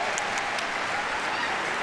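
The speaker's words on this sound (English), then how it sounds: "I want a big round of applause for this one as it finishes." A crowd at a dog agility event applauds as a dog finishes its run, a steady, even burst of clapping with a few sharp claps on top, continuing throughout the short stretch.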